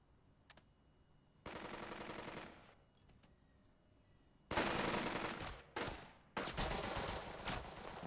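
Machine gun suppressive fire in the strategy game Burden of Command rattles out in loud sustained bursts, one earlier and quieter, then two heavy, close volleys of rapid automatic shots.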